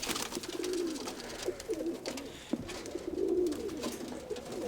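Pigeons coo inside a pigeon loft, several soft rolling calls rising over a constant rustle and murmur of birds nearby.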